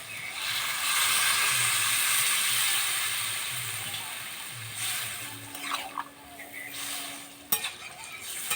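Water poured into a cooking pot of pumpkin greens gives a loud, steady rushing hiss for about five seconds that then fades, followed by a few faint clinks and a sharp knock.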